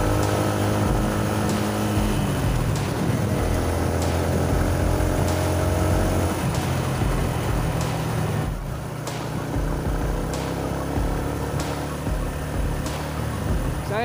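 A Yamaha Sniper 150 Monster Energy Edition motorcycle engine drones continuously while riding, steady tones shifting in pitch as the rider changes speed, with a few sharp clicks and no talking.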